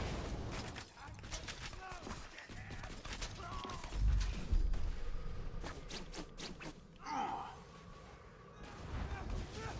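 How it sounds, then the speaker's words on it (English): Hyperion pistol fire in Borderlands 2, heard as scattered sharp shots and bursts amid a dense, noisy battle mix with heavy low rumble and overlapping effects. "That's the Hyperion pistol sound that guy had, right?"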